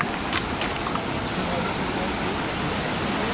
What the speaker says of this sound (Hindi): गाइस फाइनली हम आ गए वाटरफॉल पे